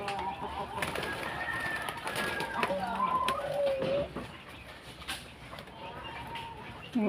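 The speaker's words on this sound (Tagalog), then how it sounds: "Ang dami nilang ibon oh." A crowd of birds kept at a farm alongside chickens and rabbits, with pigeon- or dove-like cooing and scattered calls overlapping continuously at moderate distance, with faint voices mixed in.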